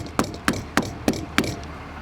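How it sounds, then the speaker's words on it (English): Five evenly spaced hammer taps ring out close by as a hammer knocks staples flat into marine vinyl on a boat floor, each hit crisp and sharp in a steady rhythm. "Hammer them down."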